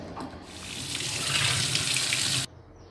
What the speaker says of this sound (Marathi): आता या कैऱ्या पहिले धुवून घेते